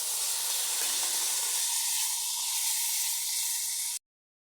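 Water poured into a pan of frying chapila fish and eggplant, a loud, steady sizzling hiss that holds evenly for about four seconds and then cuts off abruptly, with no talking.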